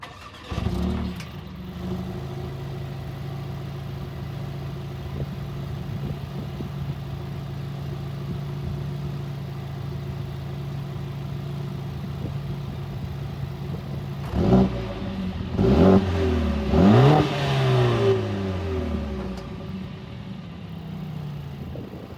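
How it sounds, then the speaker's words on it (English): Warm start of a 2022 Mercedes-Benz CLA45 AMG engine, settling into a steady idle before a few sharp, loud revs near the end, heard up close with no talking. "that was a little warm start and a couple of revs"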